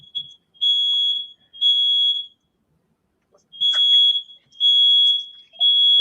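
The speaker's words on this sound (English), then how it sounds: "I'm trying to get my smoke detectors to turn off" Household smoke detectors shrill in loud, steady high-pitched bursts, several long beeps separated by short gaps and a pause, sounding nearby with no talking.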